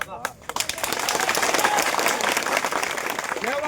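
A Koli community gathering in Bhavnagar breaks into a loud burst of crowd applause and clapping that builds after a few sharp claps and carries on, with voices talking over it.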